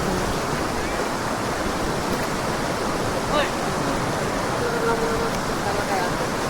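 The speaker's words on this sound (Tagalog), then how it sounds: "ito yung ilog na ano, ma-experience nyo pag nag-camping kayo dito sa Chilax River View" River water flows steadily at a riverside campsite in Gayong Gayong, Mayantoc, Tarlac, a continuous broadband rush filling the scene at moderate level, with a faint brief whistle-like call and faint voices nearby.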